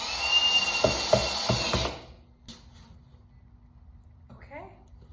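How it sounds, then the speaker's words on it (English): Screws are driven into the bottom panel of a YakAttack BlackPack Pro 16x16 kayak crate. A ratcheting driver clicks quickly and loudly for about two seconds, then the room goes quiet except for a faint click and a soft squeak. "Install remaining panel screws in bottom panel."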